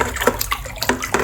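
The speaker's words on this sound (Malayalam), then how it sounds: "നമ്മുടെ പാൻ്റ് ഓരോന്നായിട്ട് വെള്ളത്തിലേക്ക് ഇറക്കി വെക്കുവാണ്" Pants are lowered one by one into a home basin of fabric dye fixer water, giving a few soft splashes and sloshes close up.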